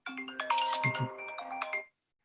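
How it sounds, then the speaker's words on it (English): A mobile phone ringtone plays a bright, chiming electronic melody for about two seconds, fairly close and alone, then cuts off abruptly. "Turn my regular phone off here."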